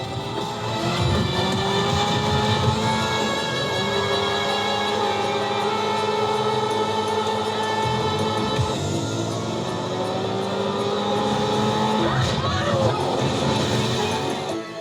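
Car engine and road noise from GTA V-style street driving footage, a steady full-band drone with harmonic engine tones shifting over about fifteen seconds, occasional tire or impact accents, loud and continuous with no talk.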